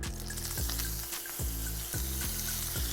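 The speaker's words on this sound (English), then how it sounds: "So while the pan is still hot, we want to get our prawns in." Prawns searing in a hot pan produce a steady loud sizzle, crossed by several rhythmic knocks and scrapes from the pan or utensil.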